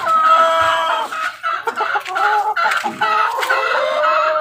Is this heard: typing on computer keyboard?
no